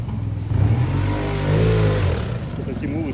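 A car creeps through a narrow old-town street in Granada, Andalusia, its mid-pitched engine humming and swelling close by as it passes, with people talking over it.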